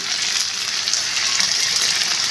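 Taro pieces sauté in a little oil in a pan, a dense continuous hiss and crackle that is loud and close, steady throughout with no pauses and no talking.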